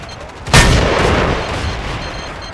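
Loud close grenade blast with a long rumbling tail, followed by distant gunfire, in the video game Battlefield 2.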